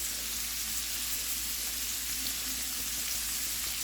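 Onions seasoned with salt and pepper sizzling as they caramelize in a pan, a steady close crackling hiss that stays even throughout with no talking.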